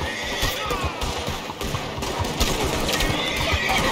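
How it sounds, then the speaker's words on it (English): A horse neighs and whinnies in Red Dead Redemption 2, with hooves clip-clopping steadily underneath through a busy, continuous game soundscape. "Kill my horse."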